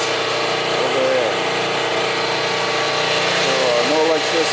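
A generator engine runs outside a house after a hurricane, a continuous loud buzzing drone that stays level throughout, with someone talking over it.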